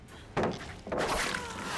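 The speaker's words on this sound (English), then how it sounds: "We're gonna break that turret right away." A turret in a video game breaks apart, two sharp thunking, shattering impacts about half a second apart, each followed by a sustained crunching, debris-like rumble at moderate loudness.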